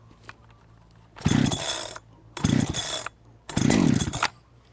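A Perla Barb 70cc chainsaw being pull-started, three loud, close rasping pulls of the starter cord about a second each, separated by short pauses, without the engine catching.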